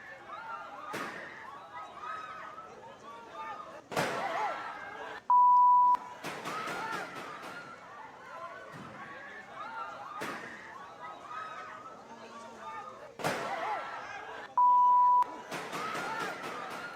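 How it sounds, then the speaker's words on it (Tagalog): Several sharp gunshot bangs ring out one after another inside the Senate, spaced a few seconds apart over background murmur, with short beep tones between. "Sunod-sunod na putok ng baril po yan"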